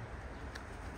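A brief, soft cooing call from a racing pigeon rises over a rumbling, noisy background.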